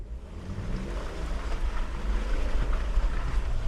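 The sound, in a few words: 4x4 off-road vehicle driving over bumpy terrain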